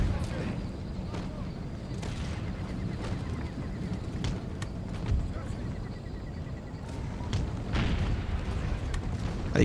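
Repeated distant booms of cannon fire thud irregularly over a dense background of battle noise and rumble, in a Total War video game.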